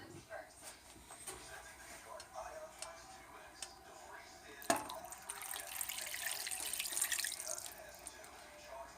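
Water pours into a pan for sloppy joe sauce with tomato paste and a seasoning packet, a steady bright rushing stream starting after a sharp clink, while a person talks.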